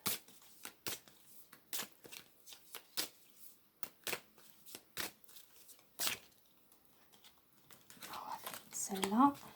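Oracle cards being handled and shuffled up close, a run of quick papery riffles and slaps with soft rustling between, ending in louder crinkly handling.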